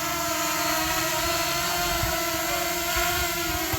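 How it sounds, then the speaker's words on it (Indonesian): A drone hovers and flies outdoors over a residential area near Daru station in Tangerang under an overcast sky, giving a steady, close, high-pitched whirring buzz that holds constant throughout. "Saya mau nerbangin drone dulu nih sebelum hujan, udah mendung."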